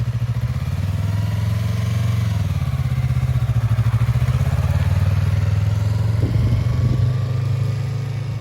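A motorcycle engine rumbles steadily and close as a beginner rider lets out the clutch and pulls away in first gear, a low throbbing drone that rises slightly in pitch, with no talking heard.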